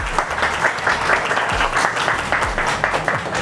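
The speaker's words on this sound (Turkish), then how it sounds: "alkış alın, alkış, alkış, alkış" Close, energetic clapping from a small group of people in Istanbul, dense and continuous, with occasional low thumps beneath it.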